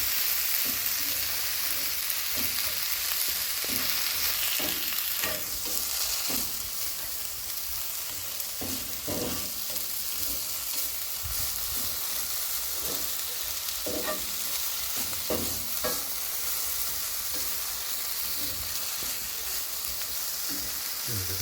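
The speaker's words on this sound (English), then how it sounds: "The onions can be just cooking" Onions frying in a pan in a shed, a steady close sizzle running throughout with scattered light scrapes and taps as they are stirred, no one talking.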